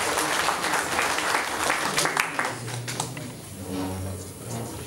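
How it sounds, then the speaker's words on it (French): An audience at a conference in Milan applauds a guest speaker, a dense burst of clapping that is loud at first and then thins and fades, with some low voices murmuring underneath near the end. "On peut l'applaudir s'il vous plaît."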